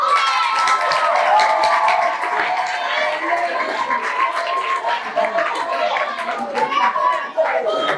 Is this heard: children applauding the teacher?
yes